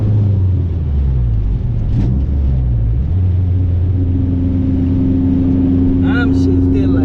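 A racing car engine roars close and loud, its pitch climbing and dropping sharply around a quick gear change, then holding a steady drone while someone talks excitedly over it.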